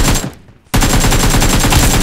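Rapid automatic gunfire in the battle royale game PUBG Mobile, loud and close, with a burst, a short gap of near silence, then a sustained stream of quick shots.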